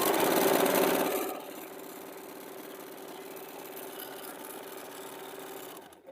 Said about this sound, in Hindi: मिला के इसी के ऊपर सिलाई डाल देंगे